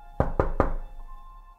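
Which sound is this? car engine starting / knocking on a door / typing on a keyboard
knocking on a door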